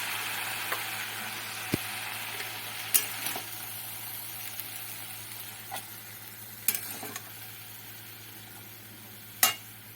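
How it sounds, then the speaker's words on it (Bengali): Water spinach greens being stirred in a hot pan, a quiet low sizzle with a steady hum and occasional sharp clinks of the spatula against the pan, close and without talk. "শাকটা অনেকটাই মজে গেছে, এবার একটু ভালো করে নাড়াচাড়া করে নেব।"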